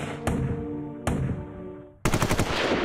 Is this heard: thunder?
no